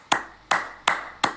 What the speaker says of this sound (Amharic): ጭብጨባ ነው።